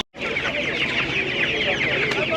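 A rooster clucks and calls loudly up close at a poultry market in Taşköprü, Kastamonu, Turkey, continuous throaty fowl sounds with faint voices in the background.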